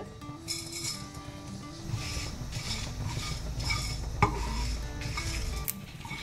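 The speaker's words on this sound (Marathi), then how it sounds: "आतां हो मसालो तिक्केशे ड्राय रोस्ट करया। तेल घालूंक ना, कणपीर, जिरें आनी मिरसांग।" Coriander seeds, cumin and dried chillies are dry roasted in a pan without oil, stirred with continuous scraping and light clinks over a soft crackle, close and steady, with no voices.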